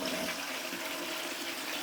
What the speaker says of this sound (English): they're going to want all of them to get changed over to this brilliant Siamp infrared flush valve